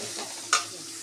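Chopped onions and cumin seeds sizzle in a pan with a steady hiss, punctuated by one brief scraping stir near the middle.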